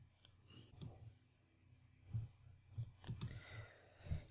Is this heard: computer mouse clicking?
yes